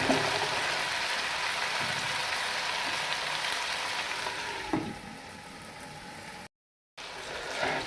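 Tomatoes cook in a pan for bhuna chicken, giving off a steady, close, hissing sizzle with a few brief pops and a short drop-out near the end.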